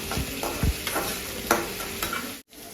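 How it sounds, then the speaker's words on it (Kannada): Chopped tomato fries in hot oil with a steady, close sizzle, punctuated by a few scraping stirs of a utensil against the pan. "ಟೊಮೆಟೊ ಚೆನ್ನಾಗಿ ಬೆಂದು ಎಣ್ಣೆ ಬಿಟ್ಕೊಳ್ಬೇಕು, ಅದುವರೆಗೂ ನಾವು ಚೆನ್ನಾಗಿ ಫ್ರೈ ಮಾಡ್ಕೊಳ್ಬೇಕು."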